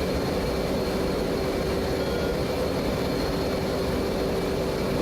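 An F/A-18 jet engine in the DCS flight game drones loud and unbroken through the approach to a carrier landing, a constant roar with a thin whining tone inside it.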